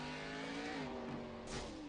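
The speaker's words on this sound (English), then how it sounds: "he lit up the tires and he hit the wall" A race car spins its tires under power, giving a faint, steady engine drone with squealing tires that swells briefly toward the end.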